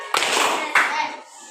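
Children in a classroom clap together in two quick, crisp bursts of group clapping, close and fairly loud, with the sound fading between them.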